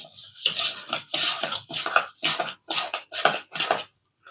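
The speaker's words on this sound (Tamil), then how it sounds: "ரவை ஊறுற அளவுக்கு தண்ணி ஊற்றிக்கணும்." Water poured onto semolina (rava) in a bowl for rava adai batter, heard as a run of rhythmic, splashy bursts close by, each a short wet slosh with brief gaps between, with no talking.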